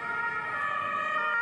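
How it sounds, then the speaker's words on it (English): A New York emergency vehicle siren wails steadily and fairly faintly, a continuous high tone held throughout the moment with no voices. "the sirens of police cars, fire trucks, and ambulances that have echoed throughout the streets of New York for decades"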